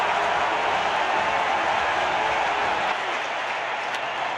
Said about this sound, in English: With the crowd still roaring